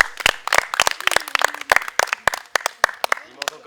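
Scattered clapping from a small French community arts group, sharp irregular claps that come in bursts and mix with talking voices throughout.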